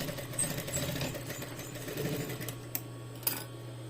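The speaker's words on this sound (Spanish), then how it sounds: "al ancho del pie prensatelas, estamos realizando ya esta segunda costura" A sewing machine stitches a second seam at presser-foot width in a steady, quiet mechanical whir with a constant hum, ending in a couple of sharp clicks.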